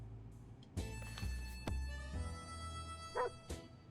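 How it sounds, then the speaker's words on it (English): A dog barks a few times in the post-apocalyptic video game 60 Seconds! Reatomized, short yips and woofs over a steady hum of game music and ambience. "Oh, the dog's back. I hear the dog."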